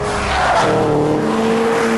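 A Subaru Impreza WRX STi is driven hard, its tires squealing loudly in a sustained skid alongside a revving engine, close and dominant with no talk.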